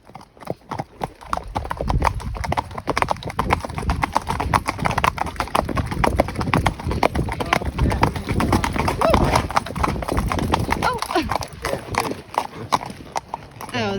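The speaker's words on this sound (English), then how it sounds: "Last canter of the day" Horse hooves clip-clop steadily and close through a late canter on a ride, a continuous rapid rhythm with voices talking over it and a brief whinny-like call.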